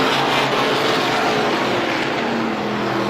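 Race cars roaring around a track during a heat race at the Halloween Howler, a dense, continuous engine roar with a broad wash of noise that holds loud and steady throughout.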